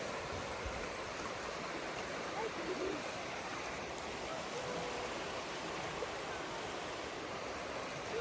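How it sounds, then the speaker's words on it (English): A roaring river rushes nearby in daytime, a constant broad wash of flowing water that stays steady throughout, with faint voices in the background. "And you can hear the roaring river."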